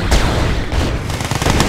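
Gunfire in the real-time strategy game Red Alert 2 rattles loudly in rapid, overlapping bursts of shots and booms, dense and close, with no talking.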